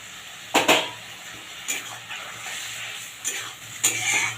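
Spiced masala with tomato cooked until the oil separates, with fried eggplant added and stirred in a pan for a vegetarian okra dish; several short scraping clatters of a spoon against the pan over a soft sizzle.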